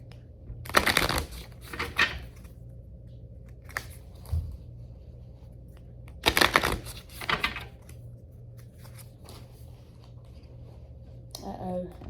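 A Moonology oracle card deck is shuffled by hand in two bursts of riffling and card-handling clatter, close and moderately loud, with faint tapping between them over a steady low room hum.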